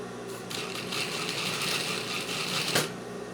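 A sewing machine runs a sleeve seam with white thread, a dense, even mechanical whir close up and uninterrupted, with a small knock near the end.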